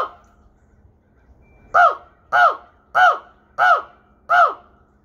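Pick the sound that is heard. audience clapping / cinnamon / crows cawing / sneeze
crows cawing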